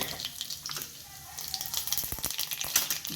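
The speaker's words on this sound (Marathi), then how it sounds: "तेल तापलं की आता आपण यामध्ये मोहरी घालून घेणार आहोत." Mustard seeds hit a small amount of hot oil in a pan and give a light crackling sizzle with sharp popping ticks that grow busier toward the end, close up and quiet.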